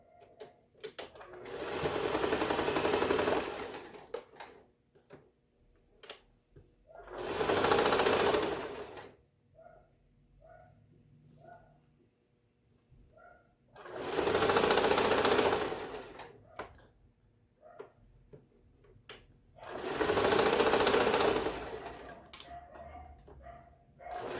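A sewing machine stitches fabric for an Easter bunny egg decoration in four loud bursts of rapid mechanical whirring, each a few seconds long, separated by quiet gaps with small clicks and handling noises.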